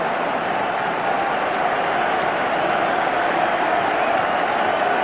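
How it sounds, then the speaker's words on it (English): A rugby stadium crowd at an England v New Zealand test match roars and applauds in a dense, loud, continuous wash of cheering. "Crowd rising to England's performance."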